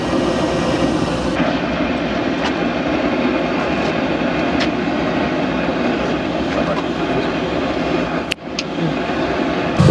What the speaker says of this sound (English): Hit that and the fan should start going, and it starts blowing air in the primary air charge.